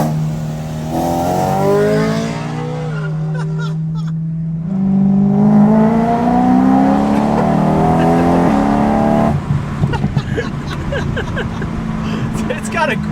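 A BMW M3 with an S65 engine accelerating and revving hard, its rising engine pitch climbing through the gears and then dropping back, with a person talking over the engine toward the end.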